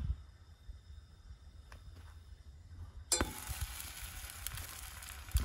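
Cinnamon French toast hits a hot pan in a minivan kitchen: quiet handling at first, then a sudden loud, bright sizzle that keeps crackling steadily with a few clinks.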